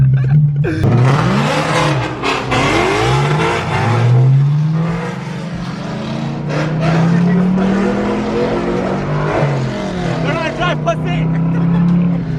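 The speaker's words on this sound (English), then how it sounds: "this car's so loud" BMW E92 M3 with loud exhaust, no bumper or trunk, drifting on a wet road: a roaring engine rising and falling with revs, with tire squeal and skidding over it. Voices talk in the car above the engine.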